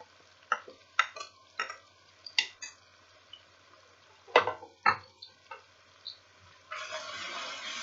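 A spoon stirs cumin and coriander spices with tomatoes in a pan for street-style fried daal mash, making a series of separate scraping clacks, then a steady sizzle takes over near the end.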